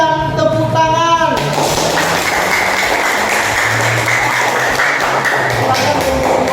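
Classroom applause for a student group's presentation: a burst of clapping from many pupils rises after a brief tonal sound, continuing loud and dense with some shuffling and low thumps underneath.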